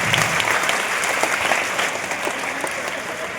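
An audience applauds a speaker at a talk on Maharashtra's forts, a steady, dense round of clapping from many hands filling the room.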